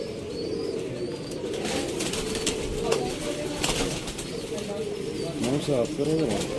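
Pure Lakha pigeons, a breeding pair, coo softly with repeated low throaty calls, while someone speaks nearby.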